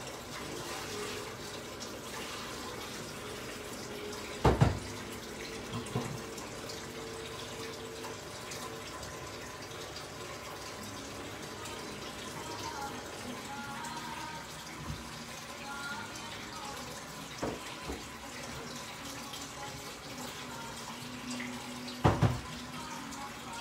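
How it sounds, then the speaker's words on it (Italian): Potato cooking water pours steadily into a dish in a kitchen, a continuous liquid trickle with a few sharp clinks of utensils against the pan. "devo aggiungiamo l'acqua delle patate."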